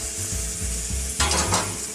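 Pork tenderloin sizzling on an outdoor grill alongside asparagus, a continuous crackling sizzle with a brief louder flare of spattering midway through.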